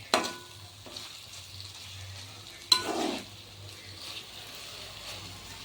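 Brinjal curry frying in a pan on the stove, a soft steady sizzle with occasional stirring scrapes and a louder clatter of the spoon, continuous and close.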